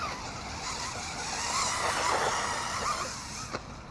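A DEERC 1205 RC short course truck whines through a corner off-road, its small electric motor buzzing steadily with tire scrabble rising mid-pass, ending with a brief sharp knock.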